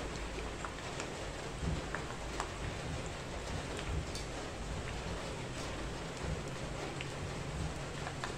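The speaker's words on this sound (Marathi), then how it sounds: "बाहेर तुम्हाला आवाज येत असेल पावसाचा." Monsoon rain falls outside a home kitchen as a constant, soft broadband patter heard from indoors, faint but unbroken, with no talk over it.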